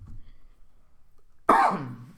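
One harsh, close cough bursts out after a quiet stretch, trailing off into a throaty rasp.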